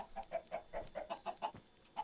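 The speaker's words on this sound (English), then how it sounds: "The chickens." Chickens cluck in a quick, steady series of short, close calls from a farm in Minecraft, heard alone without talk.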